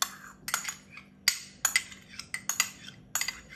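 Garlic cloves dropped into a blender jar already holding mint and coriander, making a quick series of sharp, close clinks and taps against the jar with brief gaps between them and no talk.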